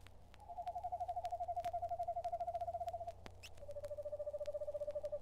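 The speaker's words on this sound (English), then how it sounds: "The quavering call of the screech owl is usually a night sound" Screech owl giving its quavering, tremulous call, two long whinnying trills separated by a short pause, faint and distant against a quiet background.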